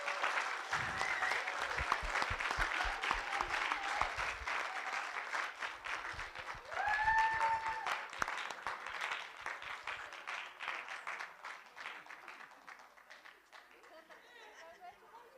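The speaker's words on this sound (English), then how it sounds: "Give them a round of applause." Sustained applause for the third-place team at a low-tech innovation competition award ceremony, a dense crowd clapping steadily for about fifteen seconds with chatter and voices mixed in, fading slightly toward the end.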